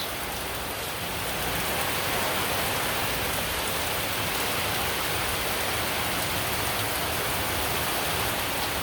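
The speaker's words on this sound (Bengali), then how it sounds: "হঠাৎ করে আবার বৃষ্টি নেমে পড়ল" Steady rain pours down outdoors with a light breeze, a dense, even hiss of drops on surfaces that holds constant throughout with no voices.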